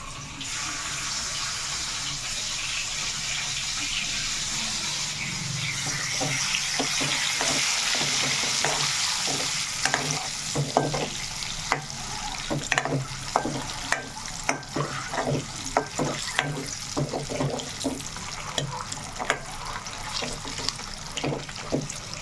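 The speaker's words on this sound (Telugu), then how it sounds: "గుడ్లు మనకి బాగా వేగాలన్నమాట" Eggs frying with dried fish in a pan, a steady loud sizzle that turns into repeated scraping and stirring strokes against the pan, with no talking.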